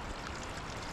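A mountain waterfall in the Urbachtal, Switzerland, gives a steady broadband rush of falling water, even and continuous throughout, with no other sounds.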